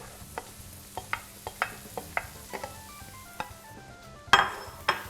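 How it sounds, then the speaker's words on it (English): Mushrooms sizzle in butter and olive oil over high heat in a pan, with a steady frying hiss punctuated by repeated close clinks and scrapes of stirring and utensils against the pan. "in this pan is a knob of butter and some olive oil, and on high heat we're going to put our mushrooms in"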